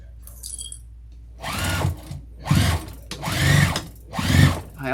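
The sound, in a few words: sewing machine stitching a vinyl tote bag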